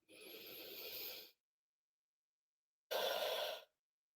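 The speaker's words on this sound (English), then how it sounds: "Let's all take a breath together." A group of people drawing in a long, audible breath together, a soft airy rush lasting over a second, then silence and a second shorter, brighter exhale, with no talking.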